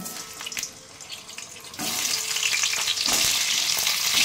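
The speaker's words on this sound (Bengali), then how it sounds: "এগুলো আমি পটলগুলো ভেজে নেব" Whole pointed gourds, peeled and slit, fry in hot oil with a steady broadband sizzle that grows louder and denser partway through, near and continuous with no talking.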